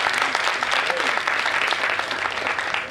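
Audience applause at a Hindi poetry recitation about Chandra Shekhar Azad: dense, steady clapping from a crowd, loud and continuous for the full three seconds with no one speaking.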